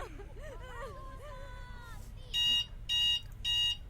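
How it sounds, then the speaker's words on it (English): A Sims 3 timer alarm sounds three shrill electronic beep bursts at a steady pace, preceded by chirpy, warbling game sounds. "Yeah, that's my timer."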